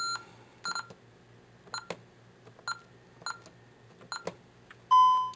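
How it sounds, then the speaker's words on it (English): Series of short electronic beeps from an alarm system keypad as a disarm code is entered, roughly a dozen evenly spaced tones ending in a longer, louder confirmation beep, heard alone at close range. "the alarm is going to give you approximately 50 seconds to enter your 4-digit code"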